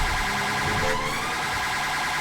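Police car siren in the video game GTA 5, from a British police mod responding at evening, wailing loud and steady in rising and falling tones over a constant engine and road background.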